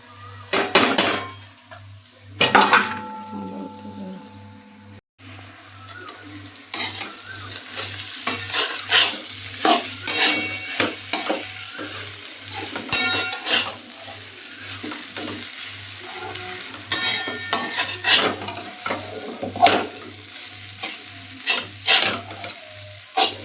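Poha with onion fried in a pan, with continuous close sizzling and frequent metal spoon scraping and clattering against the pan, growing busier after a short pause.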